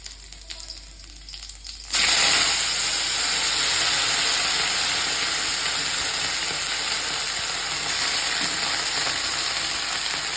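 Vegetables hit hot oil already seasoned with tempering spices, setting off a sudden loud sizzle that settles into a steady, close frying hiss, with no talking.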